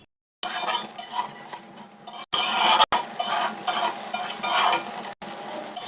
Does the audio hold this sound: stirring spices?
yes